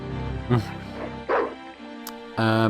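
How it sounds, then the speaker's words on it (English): Guard dog on a dock in the point-and-click game Broken Sword 2: The Smoking Mirror gives a few short barks and yips, fairly close, with a last sustained bark at the end. "The guard dog was staring at me"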